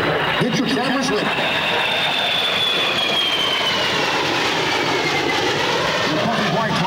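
A USMC AV-8B Harrier jet roars steadily at the 2009 Quad City Airshow, its whine sweeping gradually as it passes, while an announcer speaks over the public address.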